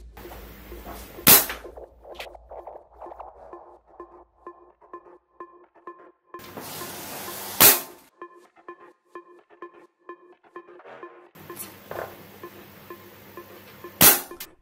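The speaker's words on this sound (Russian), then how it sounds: "Давайте перейдем к испытаниям винтовки." Test shots from a Baikal MR-514K air rifle rated at 170 m/s. Four sharp, loud cracks are spread across the span, each isolated, with quieter mechanical clicks and rattles of cocking and loading in between.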